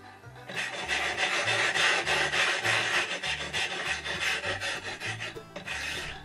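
Kitchen knife being sharpened by hand on a wet whetstone, with continuous back-and-forth rasping strokes in a steady rhythm, close and loud, no talking.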